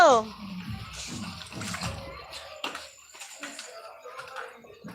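Water splashes and trickles while plants are being watered at the usual daily time, close and uneven, with someone talking intermittently over it.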